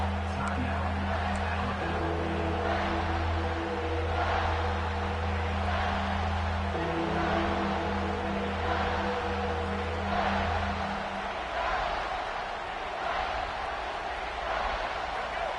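A football stadium crowd roars steadily behind the defense on a third down in the red zone, a dense sustained swell of cheering with a low humming tone underneath for most of the stretch.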